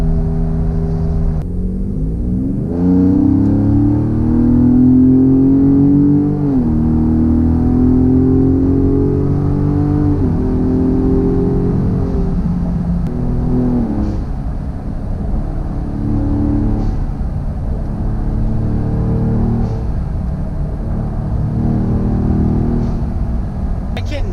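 A modified Ford Raptor truck engine revs and accelerates close by, its whining pitch climbing and dropping with a turbo whir over a steady rumble.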